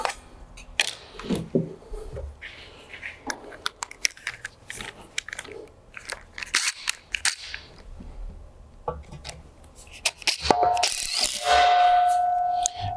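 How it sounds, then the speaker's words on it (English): Bursts of mechanical clicking and ratcheting from a hand tool, irregular and close, ending in a sustained whirring drive as a 3-inch concrete screw anchor fastens a pergola post to a slab. "I'm going to use a 3-inch LDT to fasten this down."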